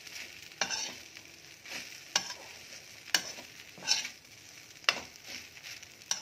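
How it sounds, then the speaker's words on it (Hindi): Sabudana khichdi with spices is mixed in a pan over a low flame, with soft steady sizzling and about six distinct spatula scrapes at uneven intervals, close and fairly quiet. "बस अब मुझे इसे मिक्स करके थोड़ी देर धीमी आंच पे रखूंगी"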